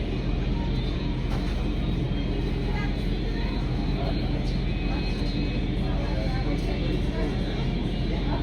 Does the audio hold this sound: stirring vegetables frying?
no